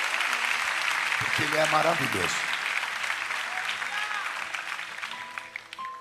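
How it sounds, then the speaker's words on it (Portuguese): A congregation applauding at an evangelical church night vigil, with sustained, loud clapping throughout, while someone speaks over the applause near the start. "uma linda salva de palmas, porque ele é bom."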